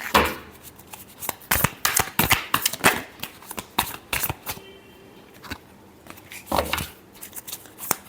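Tarot cards being shuffled by hand up close, a rapid series of crisp riffling and flicking bursts with short pauses between, loud and clear with no talk.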